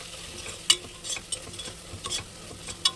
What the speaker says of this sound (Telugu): ఇప్పుడు బాగా ఫైన్గా కలుపుకోండి